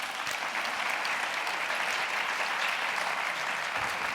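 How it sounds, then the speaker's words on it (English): Steady audience applause in a television interview studio, a thick, even roar of many hands clapping at moderate distance that holds constant for several seconds without voices. "I think that deserves a round of applause."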